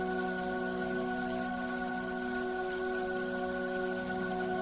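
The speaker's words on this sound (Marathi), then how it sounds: "छान रिमझिम पावसाचा प्रत्येक थेंब तोंडावर पडला" Light drizzling rain gives a steady, soft, continuous hiss with a constant low hum underneath, and no voices throughout.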